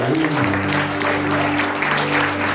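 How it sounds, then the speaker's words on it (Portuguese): A church congregation gives a round of applause during a service, steady crowd clapping throughout with a sustained musical tone and a voice audible near the start. "dê mais uma linda salva de palmas aí"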